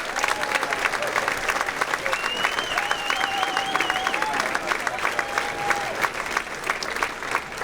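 A hall of fame ceremony crowd applauds at the Dartmouth Athletics induction, with dense, steady clapping throughout, loud and close, and a thin whistling tone drifting above it.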